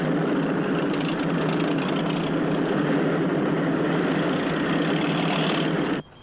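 A small plane's engine drones steadily in flight, a loud, even propeller hum that holds for several seconds and then cuts off abruptly.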